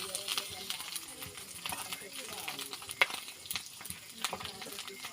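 Dried fish frying in a pan gives a steady close sizzle and crackle, with occasional clinks of a utensil and a voice heard over it.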